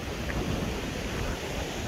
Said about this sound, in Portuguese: Pra mim esse vento aqui é um vento nordeste.